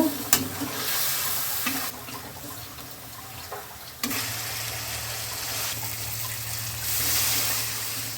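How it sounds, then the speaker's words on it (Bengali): Mustard and green chilli paste, turmeric and slit green chillies fry in oil with nigella seeds for a Bengali sardine curry, giving a steady soft sizzle with stirring scrapes, close and fairly quiet, with no talk. "সর্ষে কাঁচা লঙ্কা বাটা আছে, হলুদ, চেরা কাঁচা লঙ্কা দিলাম, ভালো করে এবার কষে নেব"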